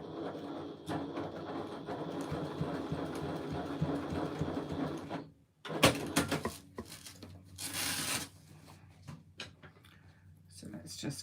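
Sewing machine stitching strap connectors, a rapid whirring run of stitches for several seconds, then a pause, a sharp clack and a few short bursts with rustling of fabric, near and moderately loud.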